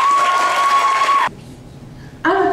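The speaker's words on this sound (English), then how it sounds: "Round of applause, guys" A slam poetry audience applauds and cheers loudly for about a second as a secondary-school poet is introduced, then the noise drops to a quiet room before another burst of sound returns.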